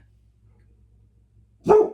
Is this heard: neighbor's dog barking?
yes